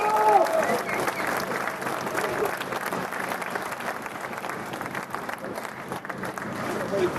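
Warm, sustained applause from an audience at a political rally in France, a dense steady clapping that fills the whole stretch with little change in loudness.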